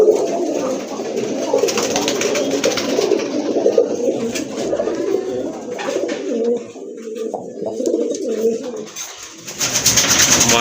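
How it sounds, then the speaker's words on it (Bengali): Fancy pigeons such as Rajgolla, Gorra, Nan and Satin breeds coo at a pigeon sale, with a continuous, close, layered stream of throaty coos and a faint hint of people in the background. "আরেক জোড়া কবুতর দেখতে পাচ্ছেন"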